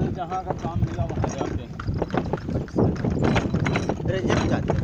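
A mare's hooves clip-clop in a steady, brisk rhythm during a horse ride in Raebareli, close and fairly loud, with people talking over the hoofbeats.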